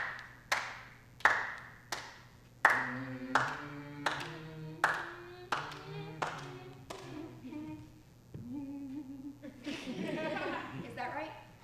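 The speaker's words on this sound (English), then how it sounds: "clap it out" Hands clap out a rhythm in a stage drama scene, about a dozen sharp claps with uneven spacing, near and loud, each ringing out with a sung tonal hum beneath, ending in a brief laugh and talk.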